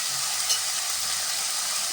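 Onions with salt sautéing in a pan, a close steady hiss of frying with faint low stirring scrapes, brief and even throughout.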